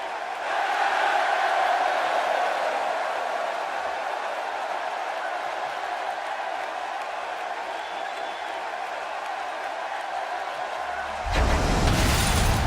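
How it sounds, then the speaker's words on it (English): A virtual arena crowd in WWE 2K16 roars steadily for the wrestler Ryback, a constant loud wash of cheering that ends in a sudden harsh burst. "listening to the reaction this guy gets from a crowd never gets old"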